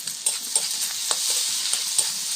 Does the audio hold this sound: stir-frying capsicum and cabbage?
yes